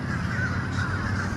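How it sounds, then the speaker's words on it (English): Crows caw steadily from birds perched on wires and in the trees behind them, with more flying overhead, forming a dense, continuous outdoor chorus with no speech. "Birds on the wire, birds flying around, birds in the trees behind the wire."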